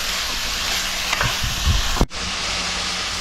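A tuna curry sizzles steadily in a pan while being stirred, a continuous frying hiss with soft scraping strokes, ending in a brief clatter.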